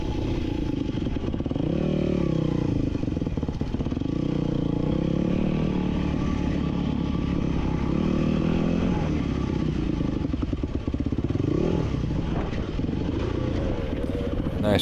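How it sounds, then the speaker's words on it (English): A 250 two-stroke dirt bike rides a single-track trail, its engine buzzing loud and close without pause while the revs rise and fall in waves, over a rough clatter from the terrain. "the 250 is a light bike. It's not so torquey and aggressive like a 450 is"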